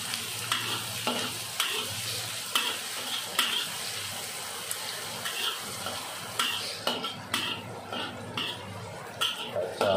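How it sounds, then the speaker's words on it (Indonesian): Garlic and shallots sizzle steadily in a hot pan for nasi goreng dabai, with a spatula scraping and knocking against the metal at irregular intervals throughout. "masukkan bawang putih dan bawang merah guys"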